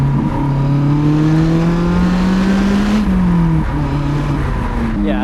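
Lotus Elise sports car engine droning steadily at moderate revs on the Susten Pass mountain road, pitch slowly rising then dipping unevenly as the throttle surges and drops, heard from inside the car.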